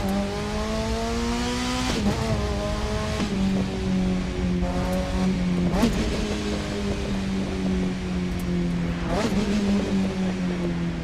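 A Mazda RX-8 (SE3P) rotary engine hums and revs steadily in the racing game The Crew 2. The pitch climbs, then drops at each gear change, with a few sharp bumps along the way.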